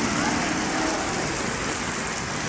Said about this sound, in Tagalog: Lakas ng ulan. Naabutan na ko ulan.